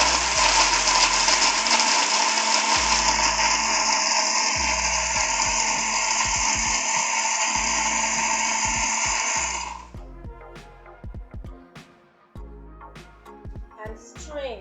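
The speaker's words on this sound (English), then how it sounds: "and now I'm going to blend" A blender whirs steadily for about ten seconds, pureeing boiled pineapple skin with ginger and sugar, then cuts off into quieter clatter and handling noises.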